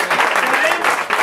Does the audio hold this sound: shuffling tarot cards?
no